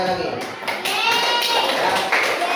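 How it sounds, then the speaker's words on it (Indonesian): A class of children claps together in a school classroom, a dense run of quick claps filling the space, with a teacher's voice talking over it. "kita masih berikan tepuk tangan sekali lagi"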